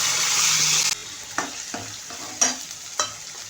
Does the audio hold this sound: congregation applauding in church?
no